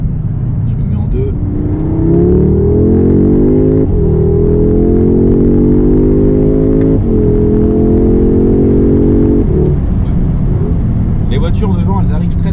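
A sports car accelerates hard through paddle-shifted gears, its engine tone climbing in three rising sweeps, each cut short by a quick upshift, loud and close from inside the cabin, with a brief voice near the end.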